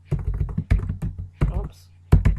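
Typing on a Chromebook keyboard: clusters of quick, close key taps in irregular bursts with short pauses between them, loud and dry.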